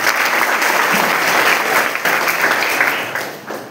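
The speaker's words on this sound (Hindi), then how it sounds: "एक बार ताली बजाइए मुझे।" An audience at a college talk in Haryana breaks into steady, dense applause that fills the room loudly and tapers slightly toward the end, with no talking over it.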